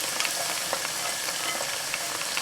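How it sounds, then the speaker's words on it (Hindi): Steady, close sizzling and crackling of hot oil tempering poured over aloo palak curry, continuous and bright with small pops throughout. "अब हम इसे आलू पालक में डाल, इसके ऊपर ही डालते हैं"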